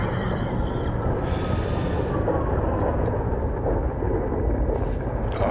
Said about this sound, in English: That actually, by the sounds of it, was a lightning strike.